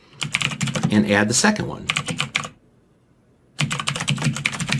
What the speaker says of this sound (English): I'll just use a comma on my keyboard